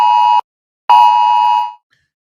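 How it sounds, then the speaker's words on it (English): Phone Amber alert tone: two loud, piercing electronic blasts, a short one followed by a longer one after a brief gap, sounding alone before fading out. "it was an alert, right? Amber alert."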